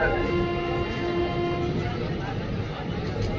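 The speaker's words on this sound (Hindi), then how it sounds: "देखो ट्रेन चलती है, रुकती है, चलती है, रुकती है।" A passenger train bound for Prayagraj rumbles along, a steady loud low rolling roar with a held tone, no distinct stop within the moment.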